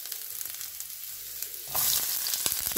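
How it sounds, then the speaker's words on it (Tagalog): Vegetables being sautéed in a frying pan: a soft background hiss that jumps to a louder, sharper sizzle partway through as food hits the hot oil, heard up close with no talking. "Ako ay magigisa ng gulay."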